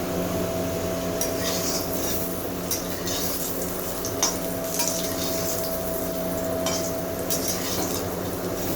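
Potatoes fry in hot oil in a pan for mutton curry, giving a continuous close sizzle with occasional scraping and clinks of a stirring utensil and no talking.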